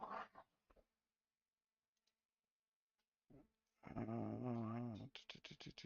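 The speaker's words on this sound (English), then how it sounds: "I don't know if you can hear that dog yelling or not." A dog gives a drawn-out, wavering yelp, preceded by a few short sounds and near-silence, then followed by quick choppy bursts.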